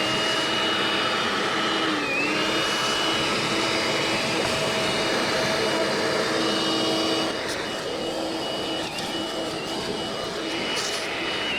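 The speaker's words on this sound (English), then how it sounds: "I'll have to get the mini shitty Makita vacuum cleaner and give that a suck." A small Makita cordless mini vacuum cleaner runs steadily throughout, a continuous close whine with a harsh airy roar that dips slightly partway through, used while cleaning around air filter housings on a 2004 Renault Master II van.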